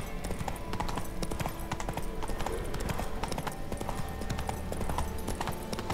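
Horse hooves clip-clop steadily in The Witcher 3 video game, a continuous rhythmic trotting under dense game ambience and music, with brief low talk mixed in.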